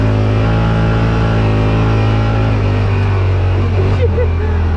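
A Yamaha Rmax 1000 UTV engine climbs a hill at light throttle, a loud steady low drone with a constant hum running throughout, close and continuous.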